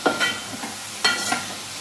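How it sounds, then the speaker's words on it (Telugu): A mushroom curry gets stirred as it fries in a pan, two close scraping strokes over a soft sizzle. "ఇవన్నీ వేసి బాగా తిప్పుకోవాలి, కలుపుకోవాలి."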